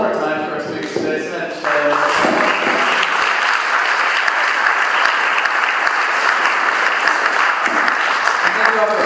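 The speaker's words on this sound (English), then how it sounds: "let's give a round of applause one more time for our speakers today" Sustained applause from an audience at a community gathering, dense and steady clapping filling the whole stretch, swelling after a brief softer opening, with faint voices mixed underneath.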